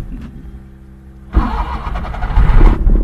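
A car engine cranks and catches after a quiet stretch, then settles into a loud, steady idle close to the microphone, with no voices.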